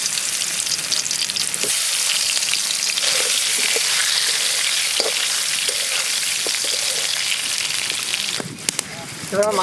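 Onions sizzling and frying in hot oil in a pan for village-style chicken leg biryani, a loud steady crackle with occasional stirring clinks and a short speaking voice near the end.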